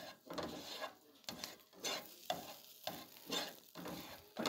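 Garlic fries in butter in a pan, a steady sizzle broken by repeated rhythmic scraping and stirring strokes, close and moderately loud with no talking.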